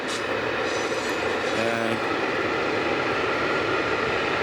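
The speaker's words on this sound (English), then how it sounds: "I think there's a train actually coming, you can hear it." A metro train passes near a bridge at night, a loud, continuous rumbling roar with faint squeal tones, close and steady throughout.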